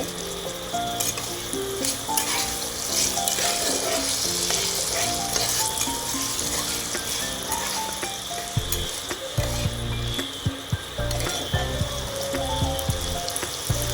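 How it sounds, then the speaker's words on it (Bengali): Fried potatoes and chopped tomato sizzling steadily in a pan, with a continuous loud hiss and occasional scraping stirs and knocks of a spatula, close up. "টোমেটোটা দেওয়ার পর একটু নেড়ে নেব"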